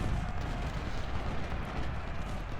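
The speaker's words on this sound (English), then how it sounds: "they've got a lot of cannon back there" Cannon artillery booms in Ultimate General: Civil War, a continuous rumbling barrage of distant blasts blending into a dense, steady low roar of battle.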